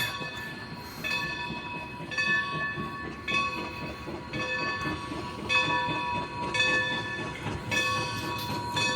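A steam train decorated with Christmas lights rumbles past in a video game, with a rhythmic clatter of wheels on rail joints, steady chugging beats and a faint hiss, moderately loud and continuous.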